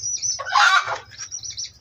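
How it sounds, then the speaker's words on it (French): Flock of local-breed hens and roosters, fourteen hens and two cocks: close clucking and a busy burst of squawks and fluttering wings over a low background rumble. "14 poules et 2 coqs."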